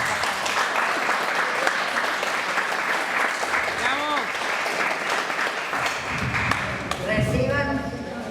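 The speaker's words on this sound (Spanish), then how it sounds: "primero un aplauso para ella." An audience at an art exhibition opening at a modern art museum claps steadily for an artist, loud dense applause with a brief tonal sound partway through and voices rising in the last few seconds.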